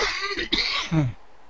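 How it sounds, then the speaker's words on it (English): A single close, harsh cough with a throaty rasp, ending in a short rough clearing sound, then quiet. "I was coughing."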